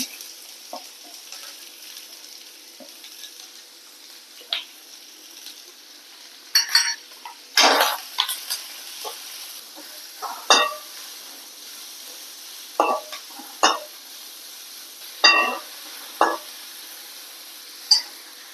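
Ginger, garlic and onion sizzle in a hot pan, a steady frying hiss broken by sharp clinks and scrapes of a spoon stirring, close and moderately loud with no talking.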